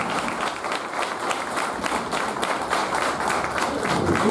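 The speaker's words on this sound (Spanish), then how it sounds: "Un fuerte aplauso para todos." Audience applause at the inauguration of a professor's institute, sustained rhythmic clapping from a modest crowd that holds steady throughout.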